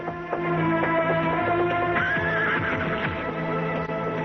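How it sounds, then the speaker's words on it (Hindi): A horse neighs loudly with a drawn-out, quavering whinny over a steady background, a few hoof clops mixed in; no one speaks. "ये तो बद्रीनाथ जी का घोड़ा है।"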